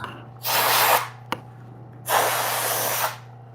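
Two long hissing blasts of compressed air blow metal shavings off hands after knife sharpening, each lasting about half a second to a second, separated by a short click, over a steady low hum.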